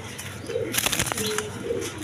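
Koka pigeons, a pair, give soft low coos, a few brief murmuring calls over a steady background hiss, with a faint chirp or rustle in the middle.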